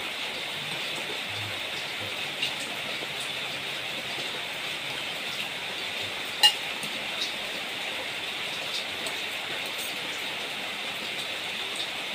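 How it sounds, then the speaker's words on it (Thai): Steady rain falling outdoors, a dense even hiss throughout with a faint click or two, moderate and continuous, no talking over it. "ฝนตกนักเลย"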